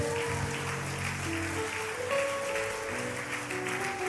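Church congregation applauding and acclaiming the Lord during a service, a continuous dense roar of clapping and cheering voices with sustained musical tones underneath, steady and moderately loud throughout.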